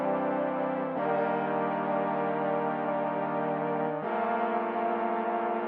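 A soloed synth pad holds sustained bass chords, swelling in as one long tone that changes pitch twice, smooth and steady with nothing else playing.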